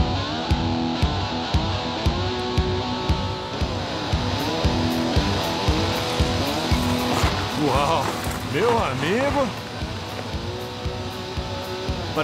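A Cadillac driving up and arriving at Cowboy Town in Nashville, its engine rumbling steadily close by with some tire noise, while people talk over it throughout.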